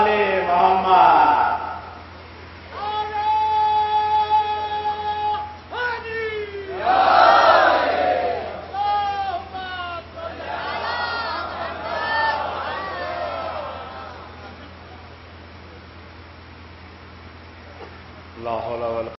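Crowd at a Mahfil-e-Noor religious gathering in Naugawan Sadat chanting salawat in unison to welcome a speaker, with loud swelling group voices in repeated waves before fading to a quieter murmur.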